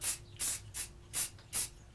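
Short spurts of spray paint hissing onto cedar wood, five or six brief bursts in an even rhythm, close and fairly quiet with small gaps between.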